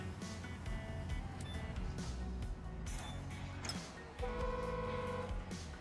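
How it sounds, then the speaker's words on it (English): A truck's train-style air horn in the video game Construction Simulator sounds in a few loud sustained blasts over running engine noise, the last blast long and steady near the end. "Oh wow, that's a train horn."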